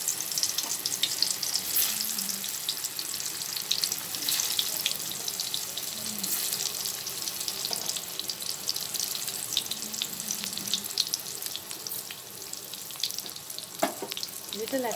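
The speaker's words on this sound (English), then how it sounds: "And we'll fry this till it becomes nice and tender." Slices of pointed gourd (parwal) fry in oil over a lowered flame, giving a constant crackling, bubbling hiss throughout, fairly close, with occasional faint clinks.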